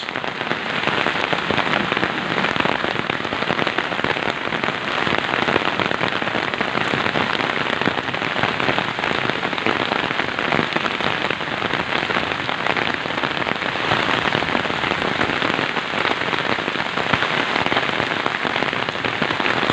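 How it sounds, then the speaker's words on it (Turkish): Heavy, steady rain mixed with hail pours down hard and continuously in a village, a dense close hiss of drops pelting surfaces. "Doluyla beraber yağmur yağıyor."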